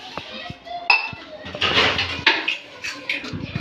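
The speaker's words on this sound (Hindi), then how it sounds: "बर्तन धो रही है" Pots, dishes and metal utensils clink and clatter irregularly while being washed by hand at home, close by, with scattered knocks and a person's voice now and then.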